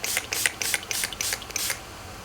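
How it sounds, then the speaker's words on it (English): Urban Decay All Nighter setting spray spritzed onto a face in about six short, crisp hissing bursts, close to the mic and evenly spaced. "I'm gonna spray my face with some Urban Decay All Nighter"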